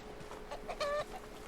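Chickens cluck in the RuneScape: Dragonwilds survival game, a short run of soft clucks building to a brief louder squawk near the middle, moderately close over quiet ambient background.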